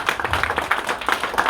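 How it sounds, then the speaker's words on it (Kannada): An audience at a motivational business training session claps in a short burst of brisk, fairly close hand claps, sharp and rhythmic, with no talking over it. "ಜೋರು ಚಪ್ಪಾಳೆ."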